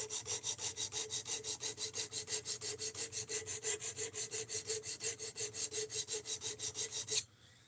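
A Work Sharp sharpener grinds a knife in rapid, even rasping strokes, roughly four per second, loud and steady for about seven seconds before stopping abruptly, with no voices over it.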